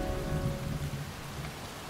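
Steady video-game rain pours down in a continuous hiss, with a low rumble underneath and no voices.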